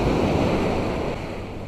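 Sea waves break and wash on the shore at Karasu, Turkey, in a loud, continuous roar of surf, blended with wind, slowly easing toward the end.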